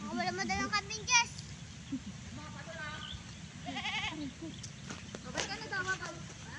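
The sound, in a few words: goat bleating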